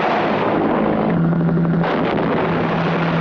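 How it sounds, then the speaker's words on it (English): A loud, deep explosion from the 1984 film Monster Shark booms and rolls into sustained rumbling, dense and heavy throughout with no voices. "They had a couple of explosions in there,"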